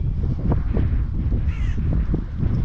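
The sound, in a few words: crows cawing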